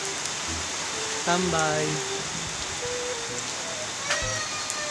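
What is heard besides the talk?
rain falling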